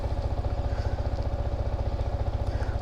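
A Kawasaki ZX10R on its stock exhaust while riding, its engine thrumming in a fast, steady pulse, loud and close, with no voices.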